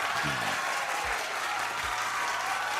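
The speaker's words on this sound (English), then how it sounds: "Your applause is appreciated indeed." Dense applause from a crowd at a professional wrestling event, a steady wash of clapping throughout, with faint low thumps underneath.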